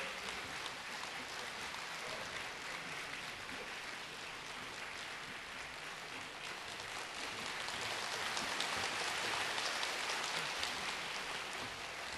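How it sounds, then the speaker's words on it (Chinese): A hall audience at a Yiguandao filial-piety celebration applauds steadily for the county magistrate, a dense, rain-like clapping that holds throughout and swells slightly toward the end. "掌声不断，欢迎我们的大家长、县长"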